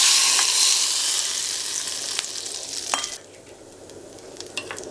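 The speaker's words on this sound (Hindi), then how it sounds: "गरम तेल को थोड़ा थोड़ा सॉस में डाल के मिक्स करेंगे।" Hot oil poured bit by bit into Schezwan sauce and mixed, a loud bright hiss that fades to a quieter sizzle, with a few sharp scrapes and clicks from stirring nearby, no talking.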